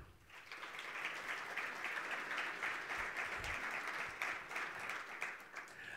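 Steady, dense applause from a conference audience in a hall at Namibia's National Green Hydrogen Conference, welcoming a speaker; sustained clapping at even loudness throughout, with no voices standing out.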